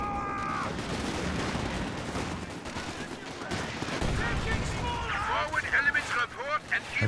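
Panzer Jaeger troops in Company of Heroes 2 fire bursts of rapid gunshots amid other battle noise, sharp cracks clustering toward the end beneath continuous commentary from a man.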